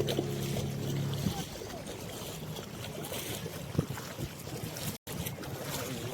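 A boat out on the sea off Alibag beach near Kulaba Fort, heard as a steady wash of engine, water and wind noise from a busy shoreline with a brief dropout near the end.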